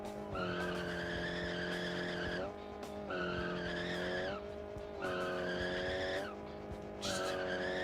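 A car in the BeamNG driving game skids backward under handbrake with the clutch in, giving three long, loud tyre squeals with steady tonal whine, separated by short gaps, alone with no talk.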